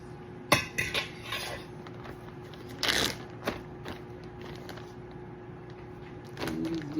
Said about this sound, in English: Now I'm gonna mix up my flaxseed meal into here, into my milk.